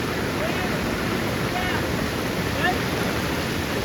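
Rushing floodwater of the Ulhas river near Manivali village, swollen by ongoing upstream rain, roars as a steady, loud, unbroken wash of noise that fills the whole stretch.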